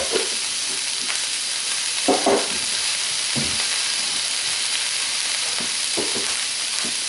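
Green vegetables cooking down in a hot pan give a steady close sizzle and hiss, broken by a few soft stirring scrapes and bumps.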